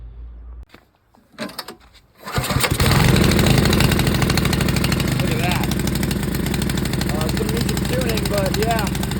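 A few quiet clicks and pull attempts lead into a small snowblower engine with a new carburetor catching and settling into a loud, steady running drone, close up, with a person talking over it.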